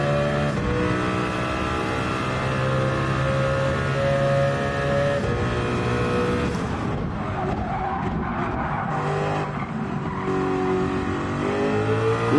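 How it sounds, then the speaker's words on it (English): A car engine roars loudly and continuously, its pitch rising and shifting as it revs, with no one talking. "Well, you hear this vehicle?"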